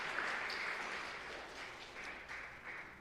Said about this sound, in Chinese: 我们一起拍手欢迎她